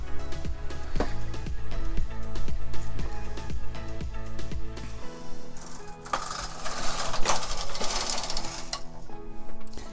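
Knitting machine carriage working rows of chunky yarn for a sock, giving a steady run of rhythmic mechanical clacks and whirring sweeps, close and fairly loud, with a busier, hissier passage toward the end.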